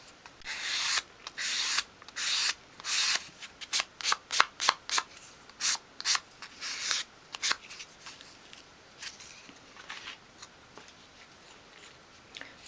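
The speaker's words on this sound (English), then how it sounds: "I then like to finish that off in my hand with a piece of fine grade sandpaper" A small wooden piece is sanded by hand with fine grade sandpaper in short, rhythmic rasping strokes, close and clear against a quiet background, speeding up then slowing to sparse rubs.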